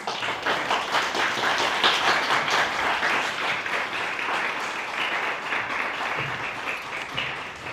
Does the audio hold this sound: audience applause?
yes